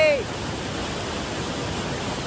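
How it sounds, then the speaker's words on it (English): A waterfall pours in a steady, unbroken roar of rushing water that holds an even, fairly loud level throughout, with no voices over it. "waterfalls are really cool and noisy"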